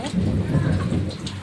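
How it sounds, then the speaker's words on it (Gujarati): A low rumble of thunder rolls through steady heavy rain, close and fairly loud, lasting the whole moment. "વીજળી બહુ ચમકે છે ને બહુ અવાજ આવે છે બરાબર."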